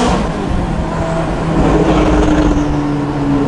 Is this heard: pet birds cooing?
no